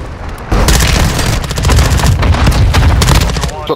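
Loud, dense automatic gunfire rattles continuously in a shooter video game, a rapid burst of shots close up that runs without a break for a few seconds.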